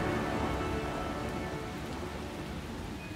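Rain falls in the video game Lost Ark as a dense, steady wash of patter with no breaks, fairly faint and even throughout.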